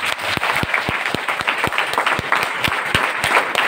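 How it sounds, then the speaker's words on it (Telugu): An audience at a gathering claps loudly and steadily, with sharp individual claps standing out in an even rhythm throughout, close and without talk. "ఒకసారి మీది మీకు గట్టిగా క్లాప్స్ ఇచ్చుకోండి"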